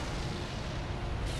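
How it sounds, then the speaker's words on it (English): A boss explodes in Bloodborne in one deep, roaring blast that fills the whole short clip with dense low rumble, loud and sustained without pause, and nobody speaks. "Okay, another explosion."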